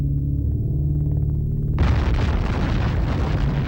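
The 20-kiloton Baker atomic bomb detonates underwater at Bikini Atoll: a low rumble gives way to a sudden, broad roaring blast that keeps thundering without pause.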